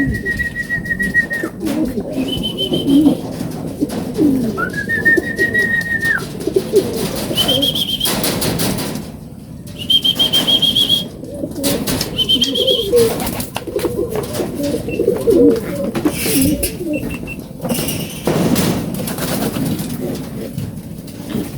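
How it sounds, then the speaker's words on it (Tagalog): Racing pigeons coo and rustle on a loft landing board after a north derby race in Ilocos Sur, with soft repeated coos, occasional wing flaps and scattered whistle-like calls over a steady outdoor background. "Ay mga kalapatids sa landing board."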